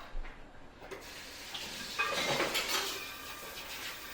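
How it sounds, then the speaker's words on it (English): A half salmon fillet rinsed under a running kitchen tap, steady splashing water with small knocks of dishes in a sink, close and moderate, the flow swelling after the first couple of seconds. "I'm going to just rinse it off"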